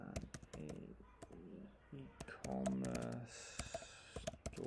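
Fingers tap out quick bursts of keystrokes on a computer keyboard, close and crisp, with a voice speaking softly in between and over the clicking.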